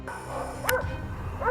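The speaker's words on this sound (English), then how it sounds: "the barking of our hounds echoed" Hunting hounds bark during a boar hunt on a farm, a few short yelps and barks heard at a moderate distance over a low background hum, brief and irregular.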